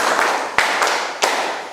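A few sharp hand claps in a counting clap game, three distinct claps spaced unevenly over a couple of seconds against a soft background murmur of a room.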